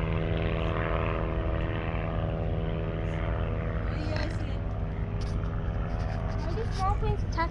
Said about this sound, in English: There's a plane landing right there.